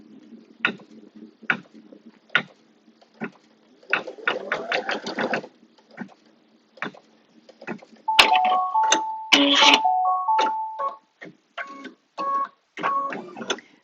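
A home embroidery machine stitches a quilted in-the-hoop A5 notebook cover, placing ribbon tack-down stitches with quick bursts of rhythmic needle ticking, short pauses and whirring mechanical movements, close and clear.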